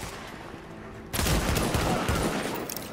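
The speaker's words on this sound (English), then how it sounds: "I shot him through the window." Gunshots in Tom Clancy's The Division video game: after a quieter rumbling stretch, a sudden loud volley of rapid fire erupts and continues as a dense, close burst.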